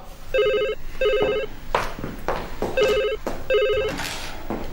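An office telephone rings in several separate electronic trill bursts, close and clear, with brief bumps and movement sounds between the rings.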